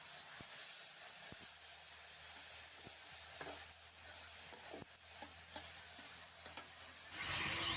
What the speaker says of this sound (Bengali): রসুনটা তেলের মধ্যে দিয়ে দিব